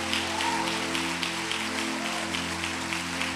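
Church congregation applauding during a Sunday-morning sermon, a steady wash of clapping under a sustained low musical hum of keyboard chords, with no clear voices.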